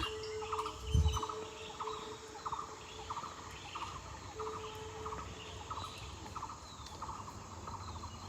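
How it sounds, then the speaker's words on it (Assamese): Early morning outdoor ambience with a constant chirring of insects and repeated rhythmic bird calls at moderate distance, fairly quiet, with one brief louder bump near the start. "আৰু ইফালে চৰাইৰ মাত"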